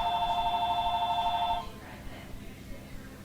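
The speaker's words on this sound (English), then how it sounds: "We do have a phone ringing." A telephone rings in a steady electronic trill for about a second and a half, then stops, heard at a distance in a room at a Pokémon card game tournament.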